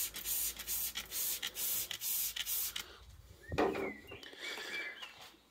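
A Worth trigger sprayer is squeezed repeatedly, giving about seven quick, even hissing spurts in a steady rhythm, followed by quieter rustling and handling noise; close up, with no talking.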